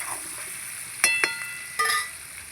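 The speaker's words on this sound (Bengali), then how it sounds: "পেঁয়াজ আর আলু একসঙ্গে ভাজবো" Quiet sizzling of potatoes and onions frying together in a pan, broken by a few sharp metallic clinks of a utensil against the pan.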